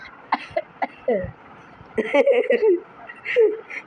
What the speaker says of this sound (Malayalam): അതാ പുക വന്ന് ചുമ വരുന്നു ഗൈസ്